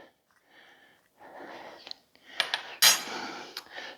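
Spoon scooping hot broccoli casserole with melted cheese and crackers from a dish, soft scraping and clinks building to a bright metallic scrape near the end, close and quiet.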